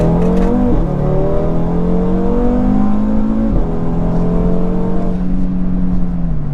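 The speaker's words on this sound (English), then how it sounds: "A Golf R coming at us." Volkswagen Golf R car accelerating hard with a loud, rising engine note, shifting gears up as it approaches and passes close by, alone without talk.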